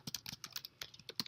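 Rapid typing on a computer keyboard, about a dozen crisp key clicks in quick irregular bursts, close and fairly quiet with no voices.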